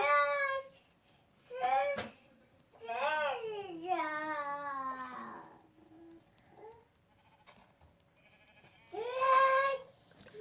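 Sheep in a video game, heard as several short, nasal bleats in quick bursts with quieter gaps between them, fairly close and clear, and no talking over them.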